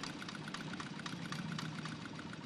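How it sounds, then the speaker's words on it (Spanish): Motorboat engines churn on Venice's Grand Canal, a steady low rumbling drone with faint rhythmic knocking, moderately distant and continuous without voices. "El ruido de tantos motores en el Gran Canal"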